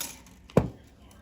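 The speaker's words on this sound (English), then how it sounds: "I'm going to cut 4" Cutters close on 22 gauge jewelry wire for wire-wrapped earrings, making one sharp, close snip in otherwise quiet surroundings.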